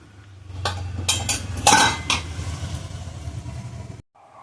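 Homemade momos set out into stacked steaming vessels over a steamer, with a series of close metallic clinks and clatters of pans and utensils, the loudest bunched mid-way, over a low steady hum.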